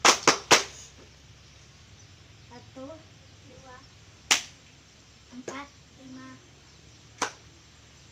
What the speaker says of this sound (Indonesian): 3, 6, 9 tepuk tangan.